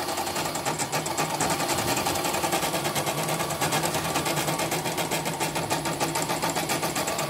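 A CNY E900/E960 dynamo motor drives a machine at a steady speed, giving a continuous rapid mechanical chatter with an even pulsing rhythm, loud and close with no voices.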